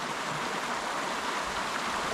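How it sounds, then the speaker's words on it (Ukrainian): Steady rushing water of a waterfall at the end of a lake, a dense continuous broadband roar that holds evenly throughout with no voices. "Ми прийшли до цього водоспаду"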